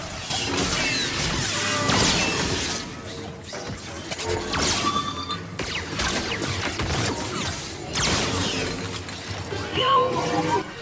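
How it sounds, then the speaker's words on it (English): Lightsaber fencing against robots in a VR dojo game: a steady run of loud crashing, shattering impacts and swishing swings, packed close together across the whole stretch, with no talking. "they do have this lightsaber dojo, which is pretty fun, and it's kind of like fencing almost with these robots"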